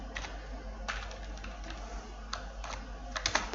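Computer keyboard typing while writing Python code, soft scattered key clicks with a few sharper taps near the end, close and without talk.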